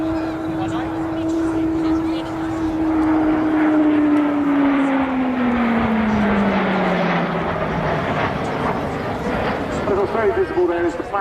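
Two jets powered by Rolls-Royce Avon engines fly past at an air show at Dunsfold, a loud sustained roar with a slowly falling engine whine as they pass, while a commentator talks throughout.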